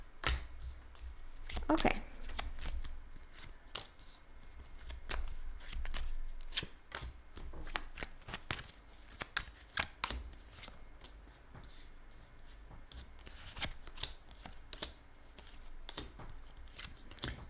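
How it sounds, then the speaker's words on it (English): Tarot cards being shuffled and laid out on a surface, quiet repeated riffling bursts and sharp card snaps and taps spread throughout, close and soft, with a brief spoken word. "Just gonna lay out the cards."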